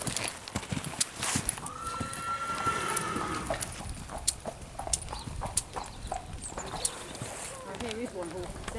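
Hooves clip-clop in a steady trotting rhythm close by, with a horse whinnying briefly and faint voices in the background.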